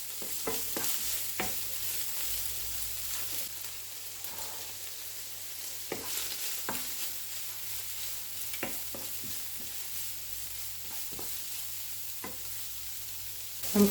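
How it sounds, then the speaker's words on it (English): Steady frying sizzle with intermittent scraping and stirring clicks from a utensil against a pot, frying ingredients for a large batch of party fried rice, no voices. "I'm frying the ingredients according to cooking times"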